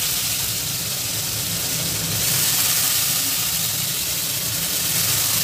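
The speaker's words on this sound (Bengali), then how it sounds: "এবার কাঁচা লঙ্কা আর পেঁয়াজ ভালোভাবে তেলের মধ্যে লাল লাল করে ভেজে নেব।" Chopped onion and green chili fry in oil, a continuous close hiss and sizzle that swells slightly partway through, with no voices.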